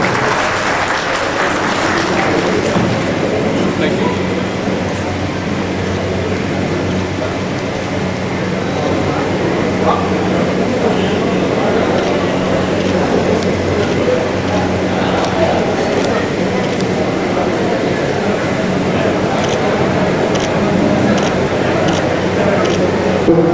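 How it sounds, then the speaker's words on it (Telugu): A crowd at a Congress party joining event claps loudly and continuously as a new member is welcomed, a dense, steady roar of hands with voices mixed in throughout. "చప్పట్లు కొట్టాలి అందరూ గట్టిగా"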